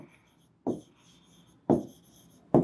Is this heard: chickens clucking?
no